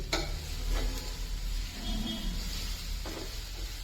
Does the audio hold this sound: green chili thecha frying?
yes